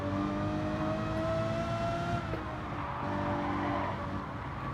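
A Lamborghini Murcielago LP640, four-wheel drive, driven in Gran Turismo 7 on the Nurburgring Nordschleife, its engine droning at a steady high pitch throughout, close and continuous with a brief dip in revs midway.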